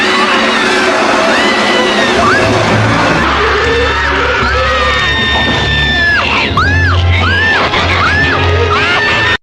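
A woman screams in a scene from the horror film Evil Dead II, with loud, shrill, repeated wailing cries over a dense, noisy soundtrack.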